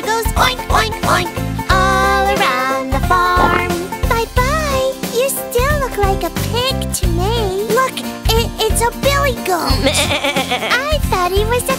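A nursery rhyme about a farm tractor, where a singing voice imitates a goat's bleat with repeated melodic 'meh' calls over loud, bouncy children's music.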